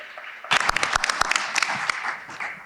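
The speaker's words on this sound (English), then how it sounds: "So an applause also for Randy." Audience applause at a higher education panel on solidarity-based practices, starting abruptly after a short pause with sharp individual claps standing out over a dense, moderately loud clatter that continues steadily to the end.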